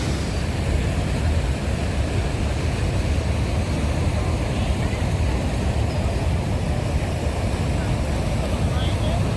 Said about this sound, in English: we were getting soaked by this waterfall right here. This is Bridal Veil Falls